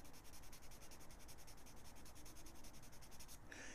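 Sandpaper rubs primer off a Hot Wheels toy car in quick, close, rhythmic back-and-forth strokes, a steady scratchy rasp that stops near the end.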